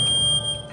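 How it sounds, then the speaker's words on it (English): A photoelectric smoke detector sounds its alarm during a smoke test, giving a piercing, steady high-pitched electronic tone that is loud, close and very brief. "the photoelectric sounds the alarm"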